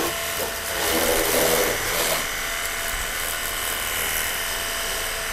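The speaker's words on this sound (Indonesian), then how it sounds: "Tekanan airnya lumayan keras dan deras." High-pressure car jet cleaner spraying water gives a loud, continuous broadband hiss with a rough, rattling pump texture, steady and close throughout.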